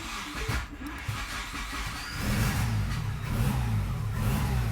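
A DSM 4G63 engine swapped into an AWD Mini Cooper cranks and catches at about two seconds, then settles into a loud, lumpy idle with a steady low rumble in a garage.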